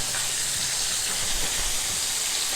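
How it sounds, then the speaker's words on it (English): Hot oil sizzles loudly while chicken wings fry, a dense, unbroken hiss with faint bubbling underneath, heard up close. "Oil is bubbling, sizzling, and we are in business."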